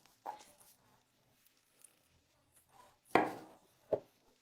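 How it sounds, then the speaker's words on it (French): A knife slices an avocado into strips, producing a few soft, isolated knocks and taps with quiet gaps in between, and two sharper cuts near the end. "Coupez ensuite l'avocat en lamelles."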